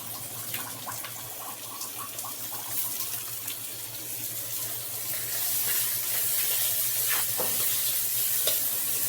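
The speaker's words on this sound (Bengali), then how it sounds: "পেঁয়াজটা কড়াইতে ভাজা হচ্ছে।" Onion fries in oil in a kadai, producing a constant crackling sizzle that grows louder and denser toward the end, with scattered stirring clinks and no talking.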